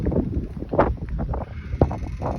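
Strong wind buffets the microphone in rough, low gusts outdoors at night, with a faint whirring of a spinning wind turbine beneath and no speech.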